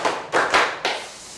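A vocational high school classroom clapping a rhythm in unison, three distinct group claps spaced evenly, crisp and close, followed by quiet room tone.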